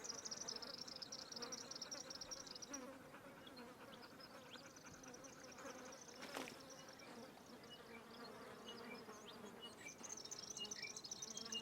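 Flies buzzing close by in the hot, dusty Australian outback, a continuous droning hum with individual insects drifting in and out, quiet outdoor background.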